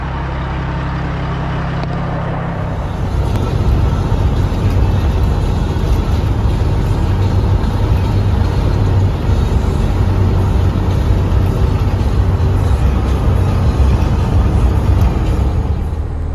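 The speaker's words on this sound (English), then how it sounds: "Just jumped in a truck and fired up a little bit ago." A truck engine idles steadily after start-up, a loud, continuous low rumble that begins about three seconds in and holds constant to the end, with no talk over it.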